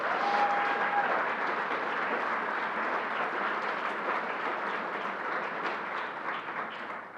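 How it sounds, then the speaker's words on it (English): Sustained, dense applause from a large crowd at the opening announcement for the LEGOLAND New York Resort theme park, a steady wash of clapping that holds for several seconds before easing slightly. "Let's give it a big round of applause."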